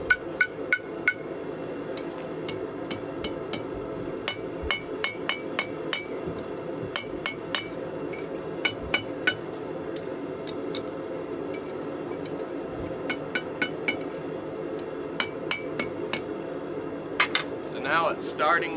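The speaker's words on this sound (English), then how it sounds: "That way we can hammer it." A blacksmith's hammer strikes metal at a forge, ringing metallic blows in uneven bursts with short pauses, moderately close over a steady background hum, with faint voices in the background.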